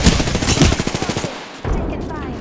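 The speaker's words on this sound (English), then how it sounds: "They're shooting at me." Automatic gunfire in the battle royale game Apex Legends: a rapid, loud burst of closely spaced shots that stops briefly, then resumes with heavy firing.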